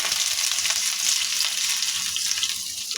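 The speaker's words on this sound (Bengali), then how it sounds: "আমি হালকা লাল করে ভেজে নিই" Chopped onions frying in hot oil alongside minced garlic while making a chickpea lentil dal, a steady, close, dense sizzle that continues without pause.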